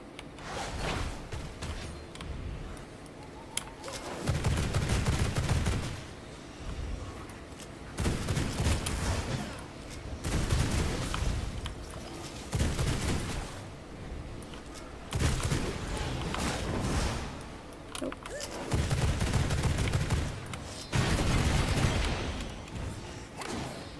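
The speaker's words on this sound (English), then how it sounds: "The nice thing about the pistols versus the bow or the crossbow is even with the basic firing, you get multiple shots" Pistol shots in V Rising, fired in repeated clusters of several quick shots, with rhythmic bursts separated by short lulls at moderate loudness.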